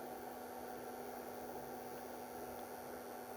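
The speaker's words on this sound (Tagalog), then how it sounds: "Ang lakas na yung blower niya." A DC-AC inverter's cooling blower runs while the inverter powers a 74-watt LED light, giving a steady, even whirring hum with a constant tone, unbroken and alone.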